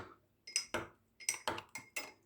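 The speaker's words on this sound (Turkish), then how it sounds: "Bardağımızın alt kısmında dondurmamızı eritene kadar içerisinde bunu karıştırıyoruz." A spoon stirs ice cream melting in hot water inside a glass, striking the sides in about six quiet, distinct clinks spaced irregularly, with near silence between them.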